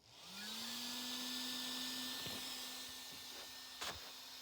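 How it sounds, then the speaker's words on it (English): A cooling fan on an upgraded WLtoys 12428 brushless RC car spins up and holds a steady, high-pitched whirring whine, close and fairly quiet, with a few small clicks near the end. "Compared to what it sounded like before, which it made no noise, this thing sounds like a rocket ship. I know it's just a fan"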